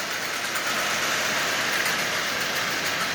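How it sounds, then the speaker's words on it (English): Marx 1666 toy train locomotive running with its built-in clacker, giving a steady, fairly loud, continuous rattling clatter with no voices. "Oh, it's got a clacker in it. That's what I'm hearing."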